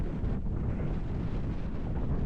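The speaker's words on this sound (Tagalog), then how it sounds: "Hangin" Wind at a seaside cove in Burgos, Ilocos Norte blows hard into the microphone, producing a continuous, loud buffeting rumble with no other sounds coming through.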